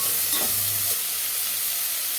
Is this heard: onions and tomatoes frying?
yes